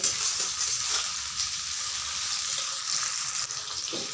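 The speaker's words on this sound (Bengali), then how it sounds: "টমেটোগুলোকে একটু ভাজা করে নেব তাহলে টমেটোর কাঁচা গন্ধ চলে যাবে" Tomato pieces fry in a pan, giving a steady, close hissing sizzle that carries on without pause and without anyone talking over it.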